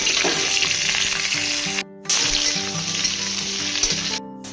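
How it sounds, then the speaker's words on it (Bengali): Dried red chillies, bay leaf and panch phoron crackle and sizzle loudly in hot oil for a dal with bottle gourd, a steady frying hiss broken by two brief silent cuts. "তেল গরম হয়ে গিয়েছে, এবার এতে আমরা শুকনো লঙ্কা, তেজপাতা ও পাঁচফোড়ন দিয়ে দিব।"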